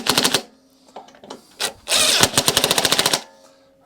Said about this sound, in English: Get my impact and very, very gently just run those 10 mils back up.